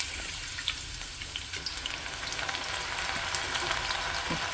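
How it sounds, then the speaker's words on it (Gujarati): Chana dal deep-frying in hot oil gives a steady, fine sizzling hiss with scattered small crackles, heard close and fairly soft throughout with no talking. "ચણાની દાળને આપણે ડીપ ફ્રાય કરીશું."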